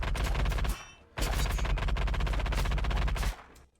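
An older firearm firing in the VR shooter Frost Point VR, two long bursts of rapid automatic gunfire with a short gap between, loud and dull-toned with no talk.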